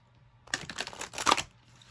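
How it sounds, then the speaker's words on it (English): A quick burst of papery tarot card riffling and flicking, close up, two short flurries over about a second, with quiet surroundings before and after. "let's get some shuffling in"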